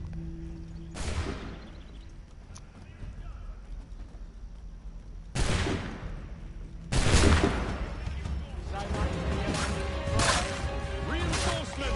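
Musket fire in Assassin's Creed III rings out as a few sharp, loud cracks, each followed by a ringing tail, and a ragged volley comes near the end; in-game voices talk in between.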